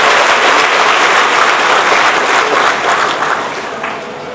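An audience applauds at a public event in Raichur, loud continuous clapping from many hands nearby that thins and fades toward the end.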